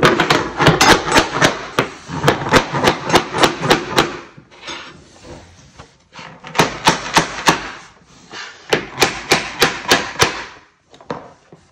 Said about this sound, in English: we get our tapping block and our hammer